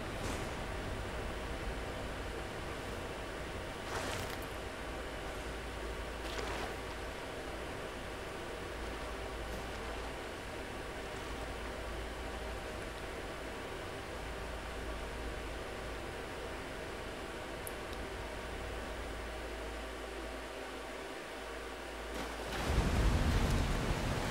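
A waterfall in Elden Ring pours in a constant broadband rush, steady and even throughout, with a louder splash near the end and no voices.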